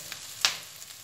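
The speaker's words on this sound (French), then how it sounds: "Voici l'oignon émincé dans une poêle avec du beurre." Sliced onion frying in butter in a pan, a soft steady sizzle with one brief sharper crackle, close and quiet with no talking.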